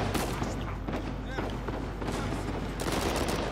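Rapid gunfire in Uncharted 4 rattles in dense, continuous volleys with heavy thuds underneath, loud and busy throughout.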